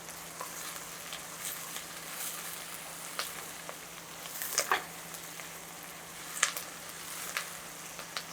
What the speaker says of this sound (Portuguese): aqui nossa cebola e o nosso alho já começaram a dourar